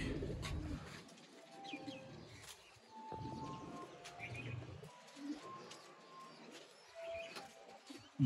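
Sialkoti cross-bred pigeons coo softly in a loft, with repeated low rolling coos and a few faint chirps, fairly quiet and close, with no talking over them.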